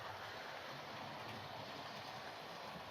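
A Hornby 4-4-0 County class model locomotive runs smoothly along its track, producing a soft continuous whirring rumble that stays steady and faint throughout.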